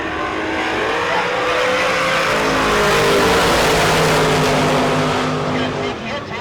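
Roaring engine of a drag race car at a heads-up event, pulling hard down the eighth-mile track toward the Mopar Express right-hand lane, with loud sustained revving while an announcer talks over it.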